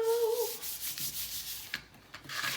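A piece of paper for a craft journal is trimmed off with a dry scraping, rubbing stroke, close and moderately loud, in a few short passes with no talking.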